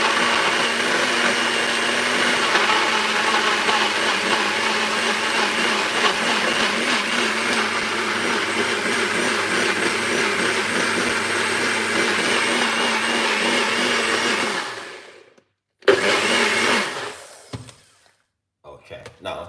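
A blender whirs loudly and steadily for several seconds, then cuts off and briefly runs again before stopping.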